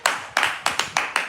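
A church congregation claps in praise, sharp hand claps in an uneven, lively rhythm, close and alone.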